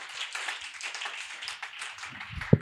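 A church congregation claps and applauds during a sermon, a ragged patter of many hands at moderate distance, ending with a sharper thump near the close.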